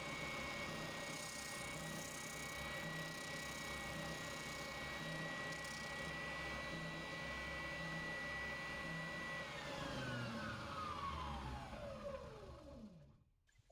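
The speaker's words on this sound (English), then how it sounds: "I use my spindle sander to sand right down to the lines of my drawing" A spindle sander sands a wooden trout lure, its motor whirring steadily and close for about ten seconds before it is switched off and winds down with a falling pitch.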